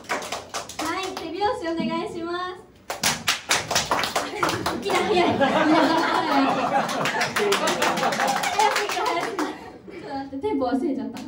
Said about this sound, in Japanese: 手拍子お願いします。